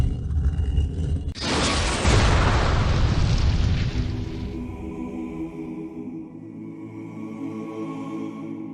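A huge explosion hits hard and suddenly, a deep roaring boom that swells for a few seconds before fading into a long rumbling tail and lingering tone.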